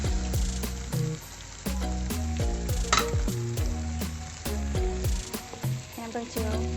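An egg fries in hot oil in a pan while pasta goreng is being made, with a loud, close sizzle. Irregular clanks and scrapes of a utensil against the pan run through it.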